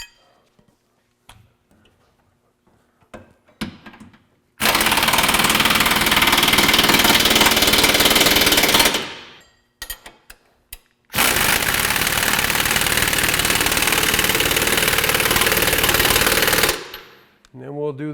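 Power tool tightening the shock bolts on a Zone 6.5-inch off-road suspension lift, two long loud bursts of rapid rattling hammering, each several seconds, with scattered clicks and handling noises between them.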